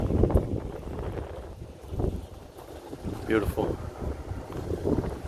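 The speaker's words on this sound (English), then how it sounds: "Sorry, it's getting windy. It's about to storm here." Gusty wind rising ahead of a storm outdoors beside a fifth wheel trailer, low rumbling buffets against the microphone, with a voice speaking briefly over it.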